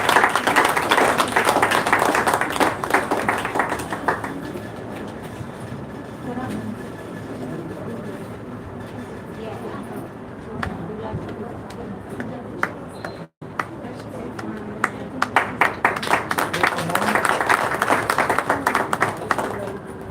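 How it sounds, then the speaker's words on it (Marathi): A crowd claps loudly and steadily at a state-level poetry gathering and award ceremony, with the applause swelling at the start and again near the end and a brief break partway through. "सर्वांनी जोरदार टाळ्या वाजवायच्या आहे"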